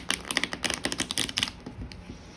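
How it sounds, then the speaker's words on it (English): Tarot cards riffle quickly up close in a rapid flutter of snapping clicks that trails off into a few softer taps. "All right, last shuffle here."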